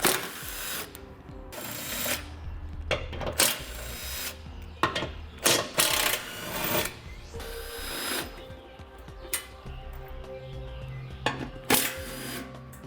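A ratchet works the skid plate bolts loose under a 2015 Jeep Cherokee, with bursts of rapid clicking and scraping metal clatter broken by pauses, close by and uneven in rhythm, with no speech.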